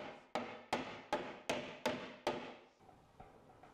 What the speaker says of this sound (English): So I've reached for my hammer.